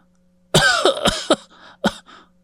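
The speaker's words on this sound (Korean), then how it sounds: "그냥 기침하는 게 아니네." A woman coughs in a harsh, hacking fit of about five bursts close by, the last few separated by short gaps, with a steady low hum underneath.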